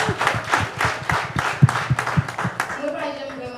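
An audience at a women's leadership panel gives a short burst of rhythmic hand clapping for Mme Aurel, moderately close, with voices talking over and around it before it fades.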